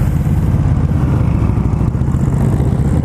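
An Indian Scout motorcycle engine revs hard and close, a steady loud low rumble that holds strong throughout with slight throttle swells.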